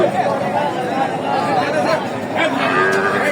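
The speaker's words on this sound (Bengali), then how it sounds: "আর এগুলো কিন্তু বকনা গরু।" Sahiwal heifers mooing at Raniganj cattle market in Ghoraghat, Dinajpur, drawn-out lowing calls rising over a busy crowd babble, with people talking nearby throughout.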